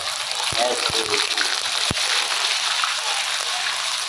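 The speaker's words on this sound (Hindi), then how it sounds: "अब हम घी में डालेंगे प्याज" Ground raw onion hitting hot ghee in a pan for frying gives a steady, close sizzling hiss throughout, with a few sharp clicks near the start.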